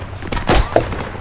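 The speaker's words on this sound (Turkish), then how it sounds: "Of, tank vuruyor, tank vuruyor." A tank firing in the video game Project Reality, one short, loud blast with a quick booming tail.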